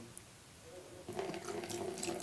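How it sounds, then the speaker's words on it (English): Water pours into a small tank in a simple water level indicator setup, beginning as a quiet trickle and growing to a fuller splashing flow partway through. "now i had poured a bit more water"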